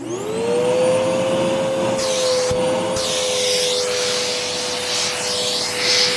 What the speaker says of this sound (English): First we're just using this little crevice tool with the extension wand. And this thing's got some serious suction.